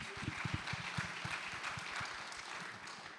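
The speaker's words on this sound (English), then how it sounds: "Round of applause." Audience at a storytelling panel event applauding, a faint, distant spread of claps with a few sharper nearby hits early on, quiet and thinning toward the end.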